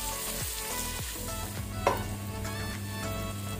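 Onions frying in a pan over a medium-high flame with salt, for wedding-style ghee rice, crackle and sizzle steadily up close, broken by a few scraping stirs and one brief clatter midway.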